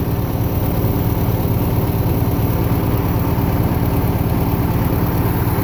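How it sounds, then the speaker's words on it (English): Worn Massey Ferguson MF65 tractor engine runs steadily at idle while bubbling oil out of its exhaust, a loud, close, low rhythmic chugging with a constant throb and no talk over it. "it's actually bubbling oil out the exhaust right now"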